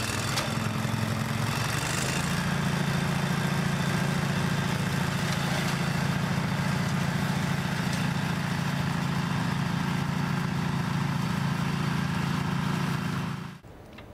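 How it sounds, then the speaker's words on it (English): Briggs & Stratton 16 hp V-twin petrol engine powering a towed Logic flail mower, heard running steadily at a constant speed for over ten seconds with a rough, throbbing drone and no talk, before cutting off at the end. "The Logic flail mower is powered by a Briggs & Stratton 16 horsepower V-twin engine"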